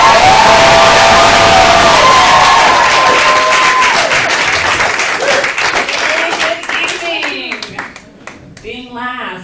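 Audience at a stand-up comedy show in a playhouse breaking into loud applause with cheering, a dense wash of clapping that slowly thins and fades, and a voice starts talking as it dies down.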